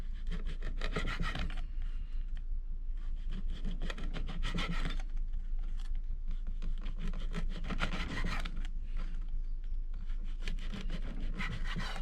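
Homemade apple and kiwi fruit leather is cut into strips, giving repeated dry rubbing and scraping strokes of a blade through the tough sheet in irregular bursts, close up and fairly quiet, with no voices.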